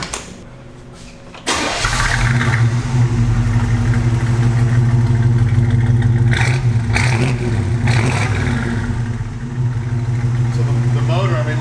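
Classic barn-find pickup truck engine cranking and catching at about 1.5 seconds, then settling into a loud, steady close-up idle with a deep low rumble, with a few brief sharp noises over it.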